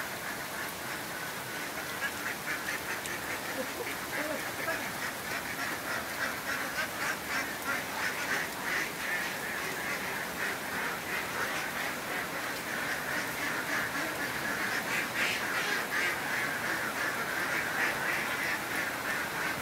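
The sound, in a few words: layer ducks quacking while being placed in their pen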